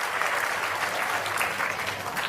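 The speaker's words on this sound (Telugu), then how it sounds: "గట్టిగా చప్పట్లు కొట్టి అందరూ కూడా అభినందించండి" A large crowd at a public gathering claps in a sustained, even burst of applause for a child, a dense steady patter of many hands with no pauses.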